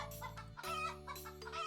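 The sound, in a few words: chickens clucking in video game Terracards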